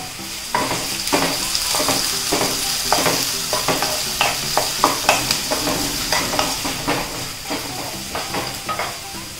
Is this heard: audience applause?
no